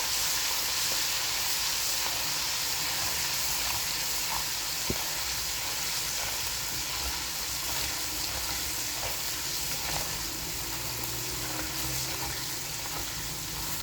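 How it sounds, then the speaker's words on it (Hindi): Two spoons of ginger garlic paste fry in oil for a fish curry, giving a steady, soft, close sizzle with faint occasional stirring and no voices. "दो चम्मच अदरक लहसुन की पेस्ट को अच्छी तरह फ्राई करते हैं"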